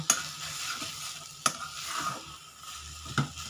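Food fries in a pan while a spatula stirs it, a soft, fairly faint sizzle with a few sharp scrapes and clinks of the spatula against the pan.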